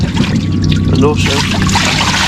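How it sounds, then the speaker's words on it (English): Water pours and trickles out of a small inshore fishing boat off Cornwall, a close splashing stream under a loud voice talking over it. "Because I need to get rid of some water anyway."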